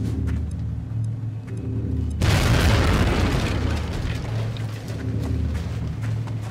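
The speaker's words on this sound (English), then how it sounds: "And apparently those boxes explode." A stack of boxes bursts into a loud, roaring explosion in XCOM: Enemy Within (Long War mod), a sudden broadband blast that cuts in over quieter game sounds and rumbles on for several seconds.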